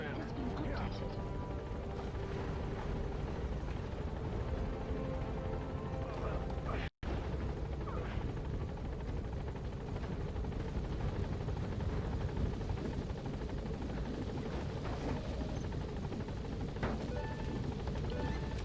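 Helicopter in the Metal Gear Solid V video game, a continuous thumping rotor drone filling the scene as the aircraft gains altitude, with game voices talking over it.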